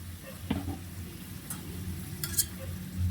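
Onion stirred and sizzling in a pan while cooking goat head, a low steady sizzle broken by a few scraping stirs and brief clinks, close but fairly quiet.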